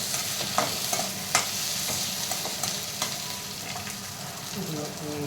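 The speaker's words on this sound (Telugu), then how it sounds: "కొంచెం అల్లం వెల్లుల్లి పేస్ట్, కొంచెం ఫ్రై చేద్దామండి." Ginger garlic paste frying in a pan for veg fried rice gives a steady hiss and sizzle, with occasional sharp clinks and scrapes of a stirring spoon, close and alone.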